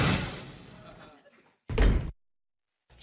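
A car door shuts with a solid thump amid frantic outdoor commotion involving a bear, the loud closing following a stretch of noisy talk and a brief pause.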